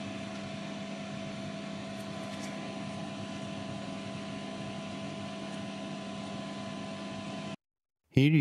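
Ortur Laser Master 2 Pro S2 LF laser engraver running with its air assist on, giving a steady, close mechanical hum with a constant tonal whine that continues unbroken and then briefly cuts out near the end.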